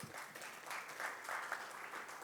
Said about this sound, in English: Let's continue that big round of applause for VC sir and all the students here